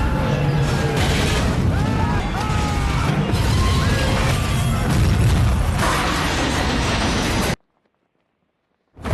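A plane crash: a loud, chaotic roar of crashing and rumbling debris with metallic screeches, continuous and dense, then abruptly cutting to silence near the end.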